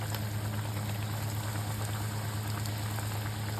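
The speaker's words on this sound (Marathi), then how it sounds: "आता मी पूर्ण डीप फ्राय करायचं." Cheese corn rolls deep-fry in hot oil, a dense, even bubbling crackle like light rain that holds steady throughout with a low hum beneath, close and without voices.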